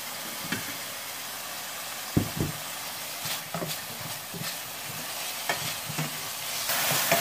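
Chicken meat browning in a frying pan, a steady soft sizzle with occasional scraping stirs and clinks, close and moderately loud without talk.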